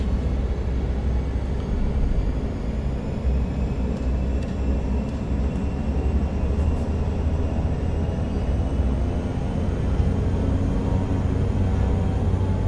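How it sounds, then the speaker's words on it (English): A Cessna Grand Caravan turboprop engine at takeoff power gives a loud, steady, unbroken drone and roar heard from inside the cockpit, with no talk over it. "Takeoff power set."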